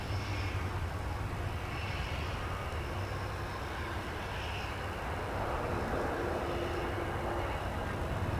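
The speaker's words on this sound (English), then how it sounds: "Here's the United Express flight over there. So it's taking off on 18 left." A United Express jet takes off from runway 18 Left at DFW airport, heard as a steady, distant engine roar over broadband background noise.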